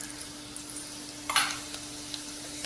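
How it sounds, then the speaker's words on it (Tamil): Half a spoon of cumin seeds hits two spoons of hot oil in a pan while stuffed bitter gourd is being cooked. The sizzle is steady and faint, with a brief louder crackle partway through. "சீரகம் மட்டும் அரை ஸ்பூன் போட்டுக்குவோம்."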